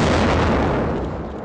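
An explosion during an armed attack on a building: a loud, heavy rumbling blast that fills the moment and slowly fades.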